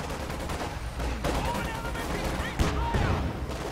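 Gunfire and explosive barrage from the World War II strategy game Company of Heroes 2, dense rattling shots and booms layered with battle noise throughout, with a louder blast near the end, under game voices.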